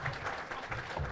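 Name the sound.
audience applauding Father Mark as he comes up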